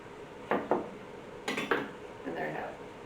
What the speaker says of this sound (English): Just kind of slicing them roughly.